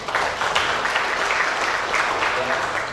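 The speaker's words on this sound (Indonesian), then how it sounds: "Tepuk tangan untuk Jambi." An audience applauds steadily at a police press conference in Jambi province about land crime cases. The clapping is a dense, even wash that holds for about three seconds.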